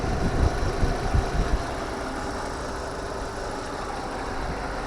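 A Volkswagen Passat 1.8 turbo, 150 hp, engine idles steadily up close, a smooth continuous rumble with a faint rhythmic knock and no talking.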